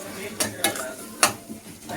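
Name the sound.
frying and stirring in a pan for chicken sukka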